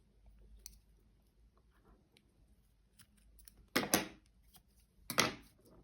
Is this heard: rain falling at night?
no